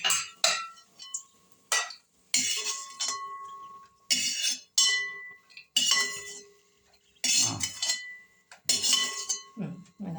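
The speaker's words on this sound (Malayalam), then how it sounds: "നമുക്ക് അണ്ടിപ്പരിപ്പ് മുന്തിരിങ്ങ കോരിയെടുക്കാം" A metal spoon clinks against a pan while fried cashews and raisins are scooped out for rava payasam, with a series of sharp, close clinks and scrapes in irregular bursts separated by brief gaps.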